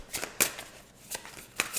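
A deck of stiff tarot cards is shuffled up close, with soft continuous sliding and several sharp snapping flicks scattered through, against a steady background hiss and no talking.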